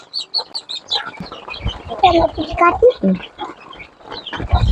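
Nearby chickens cluck and murmur in short, uneven bursts, some sharper calls rising above a scattered background of pecking and movement.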